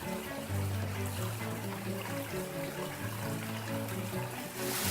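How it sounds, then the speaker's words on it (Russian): Water pours steadily over a small limestone ledge about half a metre high, making a continuous broadband rush and trickle with no pauses and no voices. "выступы твердых известняков создали перепад высот, с которого спадает водный поток"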